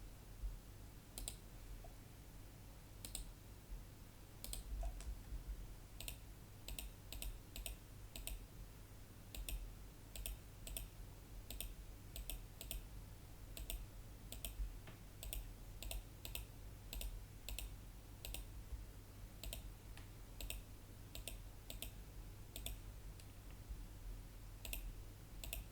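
A computer mouse clicks repeatedly in sharp, close, irregular bursts over a steady low hum while sample points are selected in image processing software. No one talks.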